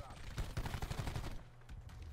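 Rapid video game gunfire crackles in a quick burst of shots for about a second, then fades, with players' voices in the mix.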